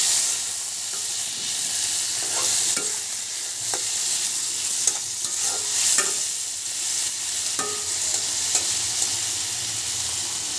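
Tomatoes added to pangas fish frying in a pan, giving a steady hissing sizzle with occasional sharp spatters and stirring knocks over the whole stretch.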